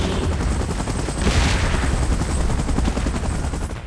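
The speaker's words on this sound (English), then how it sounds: "Chopper in position." A helicopter in the game PUBG Mobile, a loud, dense rotor roar mixed with heavy gunfire-like bursts, continuous and close throughout.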